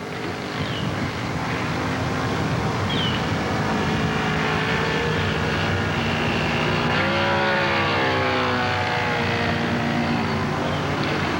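Engine of a radio-controlled model Tiger Moth biplane with a small two-cycle engine, flying at about half throttle, drones steadily and loudly throughout, its pitch rising and shifting as the plane passes, with no talk.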